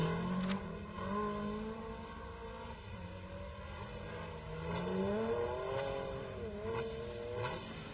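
Rally car engine on a rally stage, roaring past with shifting revs, loud and near, followed by more engine noise as another car approaches; no talking.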